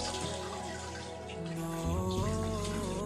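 Water splashes and runs in short wet bursts as a face is washed at a sink, close and fairly loud, with no talking.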